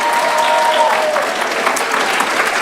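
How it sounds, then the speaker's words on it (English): Steady applause from a crowd at a superintendent's citation ceremony fills the whole stretch, dense clapping without a break, a faint tonal whistle or voice briefly above it early on. "Give yourselves a nice round of applause."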